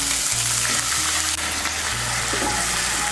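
Ginger paste frying in a pan with a splash of water, a steady close sizzle with faint stirring scrapes and no voices.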